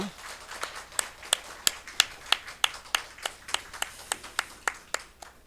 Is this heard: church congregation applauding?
yes